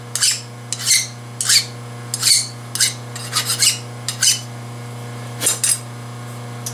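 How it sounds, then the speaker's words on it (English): A file scrapes burrs off metal stock clamped in a vise, in about a dozen separate rasping strokes at an uneven rhythm, close and clear over a steady electrical hum. "I'll get the burrs off."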